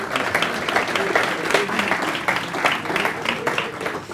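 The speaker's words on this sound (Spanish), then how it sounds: "fuerte aplauso para él, por favor." A crowd at a private investment conference claps for the panel moderator, a steady round of applause with a voice faintly underneath.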